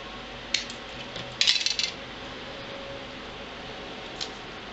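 Paper border strip being trimmed at its end for an envelope album craft project, giving a few short crisp snipping clicks and a brief cluster of sharp rustling cuts, close and fairly quiet, with no talking.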